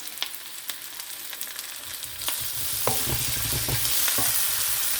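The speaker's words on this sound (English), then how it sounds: "so add tomato, sliced tomato" Sliced tomato dropping into a sizzling pot of goat head soup, the frying hiss swelling louder and broader after a couple of seconds, with scattered clinks and stirring knocks over a steady sizzle, no talk.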